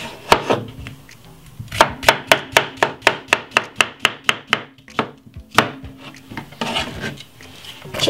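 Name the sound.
knife chopping cucumber for salad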